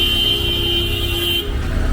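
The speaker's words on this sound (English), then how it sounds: "constant honking is one of the ways to express their freedom." A sustained car horn blares loud and close on a busy Dhaka street, holding steady for over a second before cutting off into traffic rumble.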